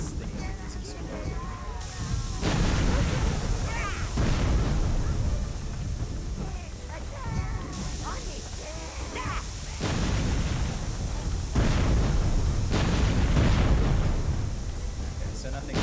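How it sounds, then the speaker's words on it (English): Things exploding in a video game: a continuous run of loud, dense blasts and rumbling booms, overlapping one another for the whole span, with a voice speaking underneath. "Just curious what happens if I let these things explode."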